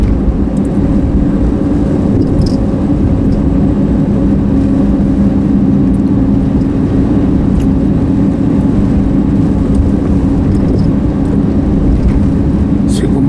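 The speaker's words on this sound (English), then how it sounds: "So we get a lot of traffic into Walmart here." Road traffic on Highway 7 in Georgetown, Ontario, near a Walmart, heard as a continuous loud low rumble of vehicle engines and tyres with wind noise, steady throughout with no distinct pass-bys.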